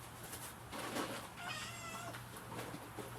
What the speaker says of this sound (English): I can't let Trini just sit here and look at me and say, feed me, feed me.